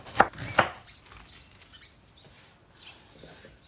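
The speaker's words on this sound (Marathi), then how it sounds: "आणि कॅबेज आणि हे भाशेन कातरून घेवप" Cabbage being chopped with a knife on a board, two sharp close chops near the start followed by fainter scraping and light cutting sounds.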